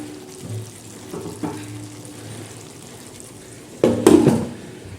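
A spoon stirs katla posto, a fish curry with cashews, in a pan over a low, faint background sizzle, with a short, louder scraping clatter near the end.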